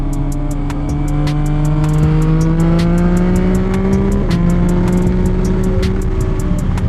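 A motorcycle on a highway exit ramp accelerates hard, its engine note climbing steadily and loud and close, with one brief dip as it shifts before rising again, no talk over it.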